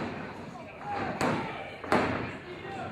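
A wrestler is slammed hard into the turnbuckle during an indie wrestling match. Two loud impact thuds ring out about a second apart over steady crowd noise and commentary.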